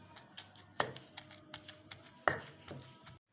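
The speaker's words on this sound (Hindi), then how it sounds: "थोड़ा थोड़ा सा बैटर डालकर मैं इसे अच्छे तरीके से कूट लूँगी" Shami kabab mixture of meat and lentils being pounded, heard as a series of close, sharp thuds with two heavier blows among lighter taps, ending abruptly.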